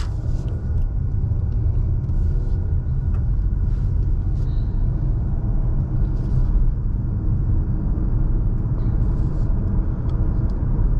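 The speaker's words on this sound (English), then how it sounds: "let's go ahead and turn it onto the street here in this Escape" A 2021 Ford Escape with a 1.5-liter engine pulls onto a street, its low, steady road and engine rumble filling the cabin without pause. No one speaks.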